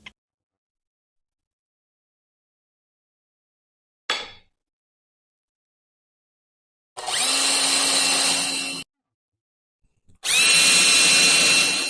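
A power drill drives screws into wood while building a valance frame for an RV, with a short whir followed by two longer, loud, steady bursts separated by silence.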